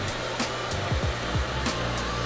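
A newly acquired hair blower runs steadily and loudly throughout, a continuous broadband whoosh with low hum, while faint knocks and brief thumps occur in the background.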